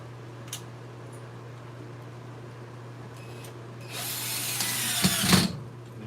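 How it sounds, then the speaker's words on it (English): Screws are driven into a woodturning lathe setup by a power driver in a short whirring, ratcheting burst toward the end. Before it there is a steady low hum and faint clicks, with no talking. "we'll try again to get those screws in"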